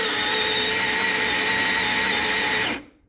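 Baratza Sette 270 coffee grinder grinds espresso beans in one continuous, loud, high-pitched whine lasting a few seconds, then cuts off and spins down quickly.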